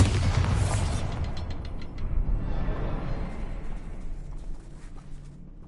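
A Bombarda spell blast in Hogwarts Legacy, heard as a loud, full-bodied explosive boom at the start that rumbles and slowly fades over several seconds, with no talking.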